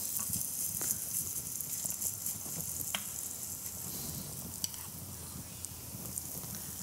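Arepa dough frying in a hot pan gives a steady, quiet sizzle with faint crackles and small pops running throughout, no talking over it.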